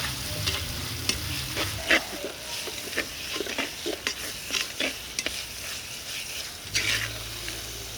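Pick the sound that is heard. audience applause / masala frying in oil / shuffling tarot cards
masala frying in oil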